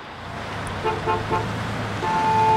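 Car passing on a road with a short horn toot, heard over steady traffic rumble with a brief tonal honk near the end.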